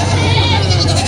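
A goat at a livestock market in Del Carmen, Uson, Masbate gives one loud, close, wavering bleat that fills the brief moment.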